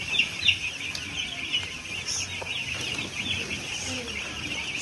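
Chickens clucking on a poultry farm where big chicks gather around a feeder, a steady dense chorus of chirps and clucks with occasional wing flaps, continuous throughout at moderate loudness.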